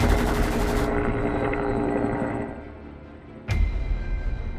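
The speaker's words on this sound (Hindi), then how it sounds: "लेकिन हेलीकॉप्टर से इतनी फायरिंग हो रही थी कि डिटेक्टिव कुछ नहीं कर पा रहे थे।" In an animation, a helicopter's rotor thrums loudly, then fades after a couple of seconds, before a sudden burst of gunfire breaks in near the end.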